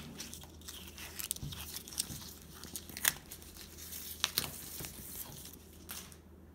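Soft, irregular tearing and crinkling of window shade material pulled off a roller, quiet rips and crackles spread over several seconds with a few sharper snaps.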